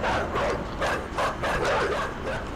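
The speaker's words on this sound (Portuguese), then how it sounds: "Não, os cães." Dogs bark and yip repeatedly in the side-scrolling puzzle game Inside, a dense, noisy run of barks over rumbling game ambience.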